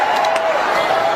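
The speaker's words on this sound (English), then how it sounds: "Listen to this crowd going wild." Tennis crowd on center court cheering loudly, a steady roar of many voices with a few sharp claps and whistles near the start.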